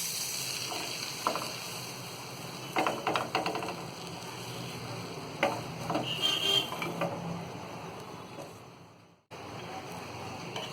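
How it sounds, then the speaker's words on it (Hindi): Burger buns toast in melted butter in a pan on a gas stove, a steady sizzle with intermittent crackles and scraping stirs, briefly cut near the end before the frying hiss resumes. "उसमें हम ये बटर डालेंगे और ये बन के हमने 2 पीस कर लिए हैं। अब इसे हम अच्छी तरह सेक लेंगे।"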